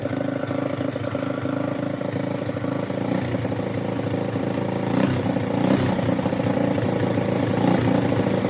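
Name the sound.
old truck engine idling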